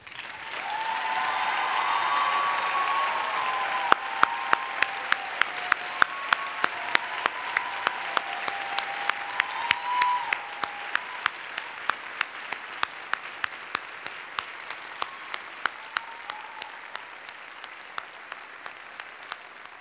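An audience at a university graduation ceremony applauds the new doctors. The clapping is steady and fairly loud for a while, then thins into scattered, sparser claps.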